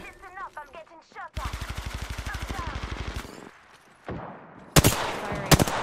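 Rapid automatic gunfire from Apex Legends rattles in a steady burst after a brief voice, followed by a pause and then a few more loud, sharp shots near the end.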